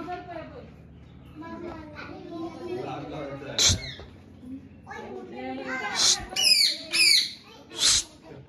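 Several sharp, harsh parrot squawks burst out over a low background murmur of voices at a zoo in Goa, coming in a loose cluster of loud cries toward the end.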